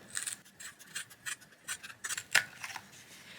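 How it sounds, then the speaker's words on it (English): Scissors cut a straight line through leather, a quiet series of short crisp snips and rasping slices repeating at an uneven pace close by. "Cut a straight line through the leather."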